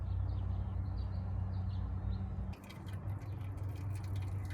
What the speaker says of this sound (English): remove the drain plug so we can start draining the oil